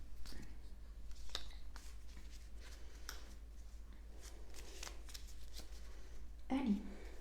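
Oracle fairy cards being shuffled by hand, a soft papery riffling that runs steadily through the clip, with a louder burst of card noise near the end.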